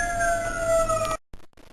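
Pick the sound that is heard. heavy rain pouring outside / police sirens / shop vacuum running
police sirens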